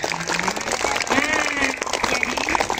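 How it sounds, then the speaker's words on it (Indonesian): Classroom applause at an Indonesian primary school literacy event for a student, Abi Naya, with a busy patter of clapping from nearby children mixed with voices talking and calling out over it. "kasih tepuk tangan. Buat Abi Naya."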